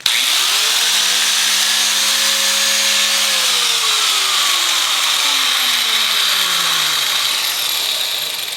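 Abrasive cutoff wheel slicing through a weld on a motorcycle rear-set part for a cafe racer build, a loud steady grinding whine that sags in pitch as the wheel bites and slows, continuous for the whole stretch with no talk.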